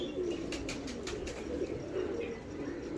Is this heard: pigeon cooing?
yes